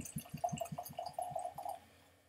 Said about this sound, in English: Now we'll pour a glass.